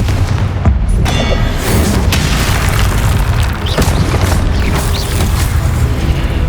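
A Confringo spell blast in the Hogwarts Legacy video game, heard as a loud, booming burst with dense rumbling low end and crackling debris, sustained and close with no talk.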